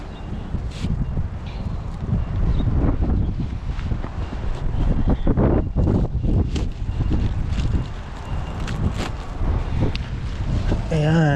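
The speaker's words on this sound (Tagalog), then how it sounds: "Gawa po na mahangin." Wind blows hard at sea while someone sets out to fish, buffeting the microphone in loud continuous gusts, with occasional knocks and voices talking over it.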